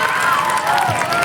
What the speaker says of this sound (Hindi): जोरदार तालियां भैया आप लोग